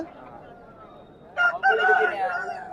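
Quiet ambience at an outdoor poultry market gives way to a loud rooster crow near the end, close and harmonic, trailing off with background murmur.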